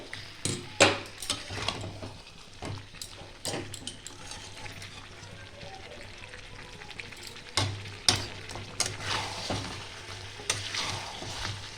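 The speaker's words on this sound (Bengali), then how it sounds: "নাড়িয়ে চাড়িয়ে নেব। এটা বারে বারেই নাড়তে হবে, কেননা বাদাম দেওয়া আছে, নিচে লেগে যেতে পারে।" Chicken curry with nuts is stirred and turned in a pan, with frequent clattering scrapes of a spoon against the pan over a continuous gentle sizzle and occasional louder knocks.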